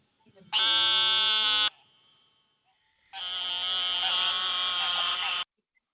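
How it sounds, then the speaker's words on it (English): Eastern narrowmouth toad gives two long, nasal, buzzing calls like a bleating sheep. The first is shorter and the second is sustained, both loud and close and separated by a quiet pause. "And then the eastern narrowmouth toad."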